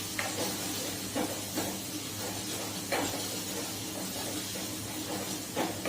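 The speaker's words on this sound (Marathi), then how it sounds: "आता आपल्याला हे आलं लसूण व्यवस्थित परतून घ्यायचंय।" Ginger, garlic and chilli paste sautéing in a pan with curry leaves, a steady soft sizzle with periodic scraping stirs every second or so, close and alone without talk.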